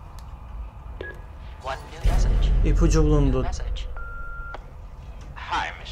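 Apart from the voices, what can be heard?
telephone dialing in the video game Until Dawn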